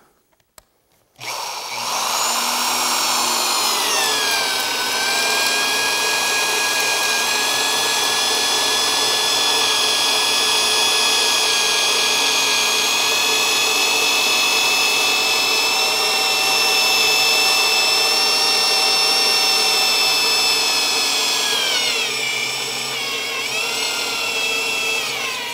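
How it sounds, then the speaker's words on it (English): Power drill boring a hole into wood for a laminated log handrail on a circular stairway, a loud, sustained high-pitched whine that shifts pitch slightly as the bit bites and runs steadily for over twenty seconds. "so we can drill our hole perfectly plumb, straight up and down"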